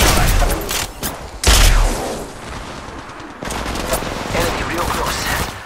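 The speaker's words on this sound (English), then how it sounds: "They're shooting at me. Right here. Firing. Getting shot at." A dense, loud exchange of gunfire fills an Apex Legends Mobile firefight, with sustained automatic bursts, a heavy low blast partway through, and more shooting continuing to the end.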